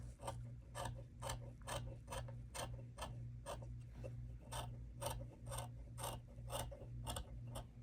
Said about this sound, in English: then I take my scissors And I'm kind of just working on this side of the tape